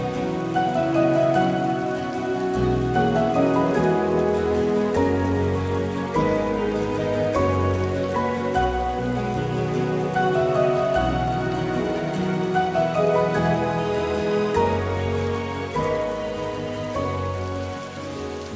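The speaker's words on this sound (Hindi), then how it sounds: "बारिश में क्यों भीग रहे हो?" Heavy rain falls steadily on surfaces, a dense continuous patter that stays loud and even for almost twenty seconds with no speech.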